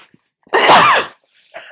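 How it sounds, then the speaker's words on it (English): A single fairly mild human sneeze bursts out close to the microphone, preceded by a faint intake of breath and followed by a soft breathy sound. "That was a fairly mild sneeze, I think."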